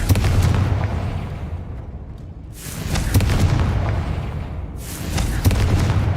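Confringo fire spell blasts in Hogwarts Legacy while clearing spider sacks, three loud booming explosions with rumbling tails at roughly even intervals, dense and continuous with no talk over them.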